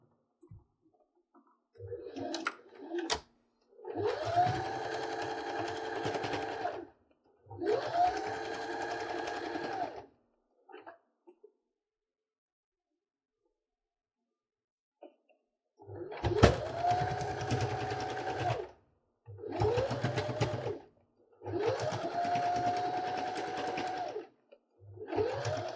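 A sewing machine stitches layers of a quilt together in several separate bursts of fast, even stitching, with short quiet pauses between runs and a few light clicks.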